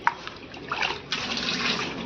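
Water splashes and pours from a tap to soak dusty household items for washing, a short close gush that starts, pauses briefly and resumes steadily.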